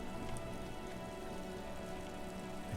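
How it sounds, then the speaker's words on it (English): Rain in the Disco Elysium video game falls as a steady, even hiss of drops on surfaces, continuous and moderately loud, with no voices over it. "Oh, it's raining again."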